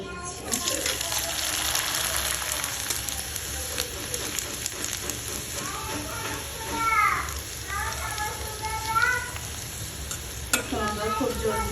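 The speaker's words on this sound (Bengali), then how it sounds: "খুব সুন্দর, খুব জলদি পাপড়গুলো ভাজা হয়ে যায়" Coloured papad frying in hot oil, a loud, churning sizzle and bubbling close by that runs throughout, with voices and a small child's chatter over it.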